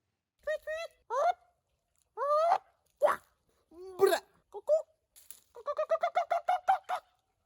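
A person imitates bird calls with their voice, giving a run of short chirps and honk-like whistles in uneven bursts, ending in a quick rhythmic series of about eight tweets, close and fairly loud.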